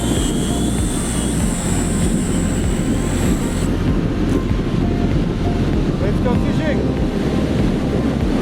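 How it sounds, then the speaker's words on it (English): Strong wind gusting around 25 to 30 km/h on a beach roars against the microphone alongside a constant broad rush, loud and unbroken for the whole stretch. "we've got about a 25 gusting 30 km/h wind now"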